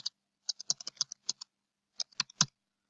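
Bursts of computer-keyboard typing as text is entered in a GeoGebra script box, quick clicky keystrokes in two clusters separated by a short pause, close and clear in a quiet room.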